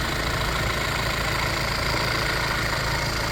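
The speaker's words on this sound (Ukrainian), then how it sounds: "Двигунчик працює просто ідеально." A 2021 Volkswagen Crafter van's diesel engine idles steadily with a low, even rumble and faint knock, continuous and close, with no voices.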